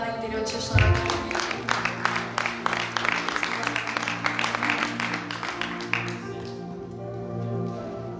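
A church congregation claps together through a Sunday service, a dense patter of hands that swells and then fades, with sustained keyboard tones held underneath.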